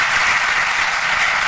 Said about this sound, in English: start off by giving a round of applause